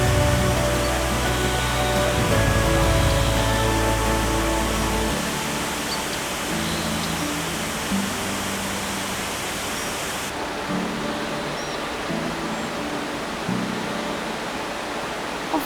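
A dense, constant roar of rushing water, like a powerful waterfall crashing through rocks and greenery in Albania, continues without pause from start to finish.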